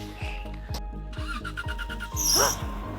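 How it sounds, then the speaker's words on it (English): A car engine cranks in a rapid, regular series of starter pulses, then catches with a brief rising squeal, close and fairly loud. "Oh my gosh, the car starts."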